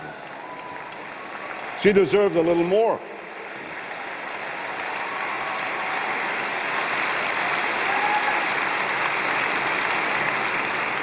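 A large audience applauds at a political conference, a brief spoken remark at the start and then sustained, dense clapping that swells and holds steady to the end.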